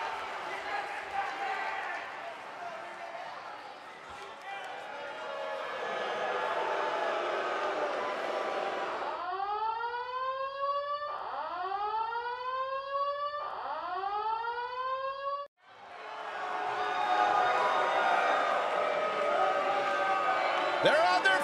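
A live arena crowd in the WWE 2K19 wrestling game roars loudly and steadily, broken midway by a few seconds of repeated rising siren-like wails before the cheering swells back up.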